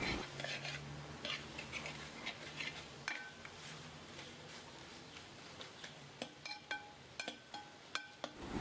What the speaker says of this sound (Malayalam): ഇനി നമുക്ക് ചിക്കൻ്റെ കൂടെ ഇത് നന്നായിട്ടൊന്ന് മിക്സ് ചെയ്തെടുക്കാം